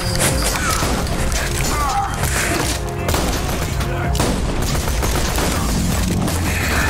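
Shorty shotgun blasts in Borderlands 2 VR fire in a loud, dense volley of booms and crashes, with combat noise layered throughout.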